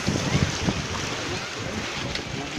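Rough sea water surges and splashes around a floating cottage out on the water, a constant loud wash mixed with wind buffeting the microphone, with a voice faintly present.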